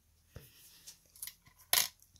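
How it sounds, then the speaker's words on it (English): Curved scissors snip through parchment paper in a few sharp, faint metallic clicks and cuts spread across a short, quiet moment, ending with one louder crisp snip. "Just go ahead and put it in there and snip, because the scissors are already angled down."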